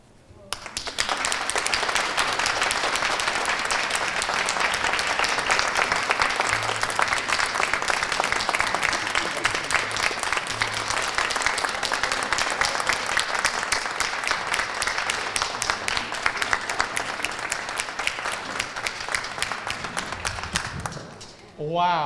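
An audience gives sustained, dense applause after a song at a remembrance event, the clapping holding steady for about twenty seconds before tapering off at the end.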